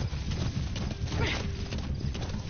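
Hooves clip-clop at a steady walking pace as a horse is ridden in the Metal Gear Solid video game, close and continuous over a noisy background.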